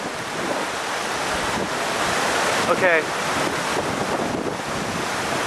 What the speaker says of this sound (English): Amazingly windy right now.